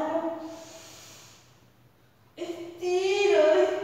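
Deep, slow breaths during a morning yoga session, a soft airy inhale fading out, a quiet pause, then a stronger, louder breath with some voiced tone, close to the mic.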